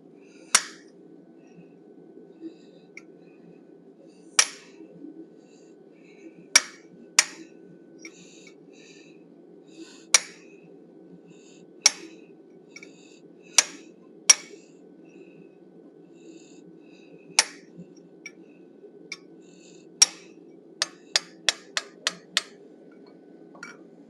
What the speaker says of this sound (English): I'm using a 1/2 inch necking tool to smooth up that area